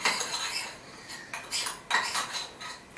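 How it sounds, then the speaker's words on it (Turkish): A metal spoon clinks and scrapes against a cup while stirring coffee and sugar, in several bright, quick bursts separated by brief pauses, close and fairly quiet. "Şimdi bu kahve şekeri biraz karıştırıyorum."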